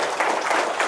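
Brief burst of audience clapping at a large AI hackathon in Bengaluru, a dense, lively patter of many hands at close range with faint crowd noise beneath.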